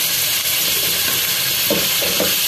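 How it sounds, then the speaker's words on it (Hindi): Masala with ginger paste, tomatoes and spices fries in a pot, giving a continuous broad hiss and sizzle with a few faint bubbling pops near the end. "देखिए व्यूअर्स ये अभी भुन रहा है मसाला"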